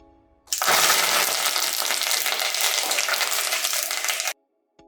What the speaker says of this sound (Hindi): और तेल गर्म हो गया है तो मैं अब डाल देता हूँ ये तिल